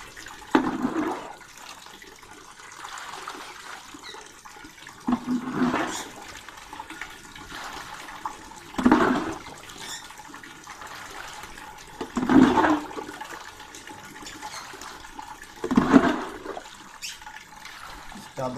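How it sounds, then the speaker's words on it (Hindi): Hot cooling water from a homemade herbal distillation setup for arq brinjasif is scooped out with a jug, poured in about five separate splashing gushes spaced several seconds apart, with quiet trickling in between. "वैसे पानी बहुत ज़्यादा आस्ता निकलता है इसलिए इसको जग के साथ निकालना है।"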